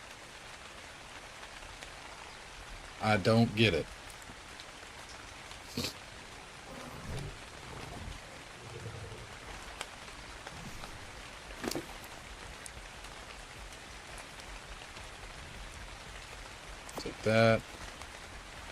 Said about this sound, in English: Why has it been raining so long in Ark?